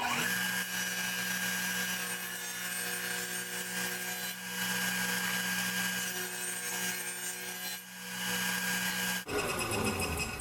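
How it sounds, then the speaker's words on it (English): A table saw with its fence set and blade raised half an inch cuts a centered groove into wooden box pieces, giving a loud, steady whine throughout with brief dips in the cut and a sharp change near the end as the blade spins down. "We need to cut a groove on the inside of each piece for the 1/8 inch plywood panels."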